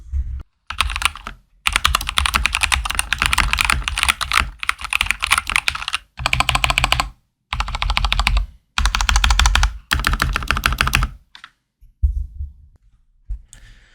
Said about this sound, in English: Let's see how this keyboard sounds.